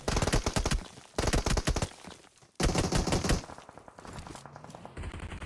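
Rapid gunfire from a PUBG Mobile esports match on Miramar, with dense automatic bursts and single shots in loud clusters separated by brief pauses, the later shots quieter and more distant.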